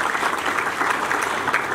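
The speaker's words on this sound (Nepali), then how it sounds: "म सम्मानपूर्वक शिर निभाउँछु र जोरदार तालीको अपेक्षा गर्दछु यहाँ." Loud, steady applause from an audience at a national film awards ceremony, a dense wash of hand claps filling the whole stretch with no pauses.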